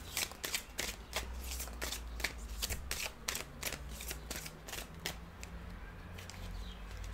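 Tarot cards are shuffled by hand in a quick run of crisp riffling flutters that repeat close to the microphone, then ease off into softer handling.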